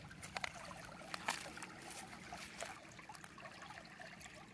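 Water trickles and gurgles steadily in a greenish stream on an early-spring walk, a soft continuous burble with small splashy drips, heard close and fairly quiet on its own without talk.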